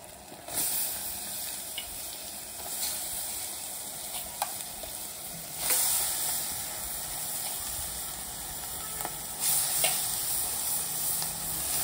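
Country chicken fries in a pan with a steady, close sizzle and hiss, broken by a few brief scraping stirs; no one speaks.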